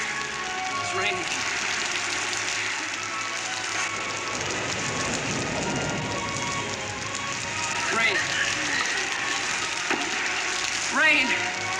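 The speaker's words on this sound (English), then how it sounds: "It's raining." Steady rain falling outdoors as a continuous soft patter, with voices and music audible over it.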